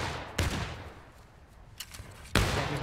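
Musket volleys in the Civil War game War of Rights, three sharp, loud cracks spaced about a second apart, each with a rolling tail, plus a fainter shot between them over a low battlefield hum.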